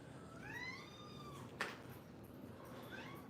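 A newly adopted house cat meows twice indoors, the first a drawn-out rising call and the second a shorter, fainter one, with a brief thump between them against a quiet background.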